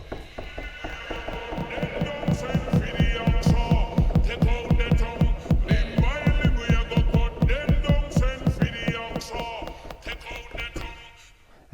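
A latched touch effect on a Denon DJ Prime 4+ controller keeps a track pulsing on its own, a dense, rhythmic throbbing beat with layered synth tones that repeats steadily before dropping away at the end.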